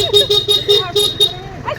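A vehicle horn honks about six times in a quick, uneven series of short blasts, close by and loud.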